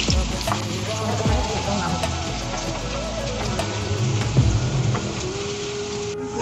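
Finely chopped onions fry in half a cup of oil, filling the whole stretch with a loud, dense, continuous sizzle like heavy rain, with a few faint clinks.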